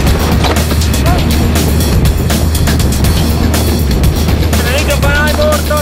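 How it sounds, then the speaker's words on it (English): A K-Max heavy-lift helicopter flies overhead with a 1,720 kg wall slung beneath it on a rope during alpine hut construction, making a loud, close, continuous throbbing roar with a high whine layered over the deep rumble. "the K-Max, a special helicopter for heavy loads, brings the first wall"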